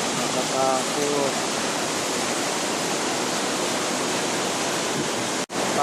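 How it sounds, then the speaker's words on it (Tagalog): Waves on the Atlantic Ocean, with wind, make a loud steady roar of rushing surf that stays constant, broken only by a brief dropout near the end. "Ayan ang Atlantic Ocean."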